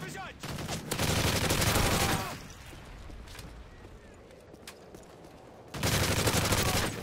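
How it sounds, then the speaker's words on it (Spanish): Bursts of AK rifle fire from a survival-mode shooter video game: a loud sustained volley, then quieter scattered shots, then another heavy burst. The firing is close and harsh, with no talk in between. "Estos ya vienen con AK"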